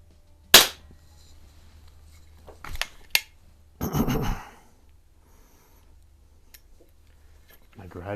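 Single-stroke pneumatic .177 Snow Peak Artemis LP400 air pistol firing pellets across a garage, a few sharp isolated snaps separated by quiet gaps and handling noises, with faint breathing nearby.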